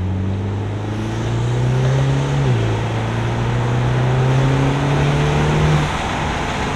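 A car engine hums and climbs in pitch as it accelerates, shifts once, then rises again, heard steadily from inside the vehicle.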